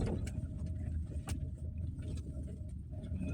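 Low, heavy rumbling of a 2025 Toyota Innova Zenix V Hybrid Modellista driving over a rough, damaged road, with dull knocks and thumps from the suspension and faint road noise.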